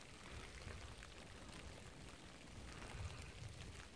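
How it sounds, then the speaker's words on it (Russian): Rain falls on the grounds of an old military barracks, a faint steady patter with scattered drips and a soft low rumble, heard alone and evenly throughout. "Наверное, слышно, что идет дождь."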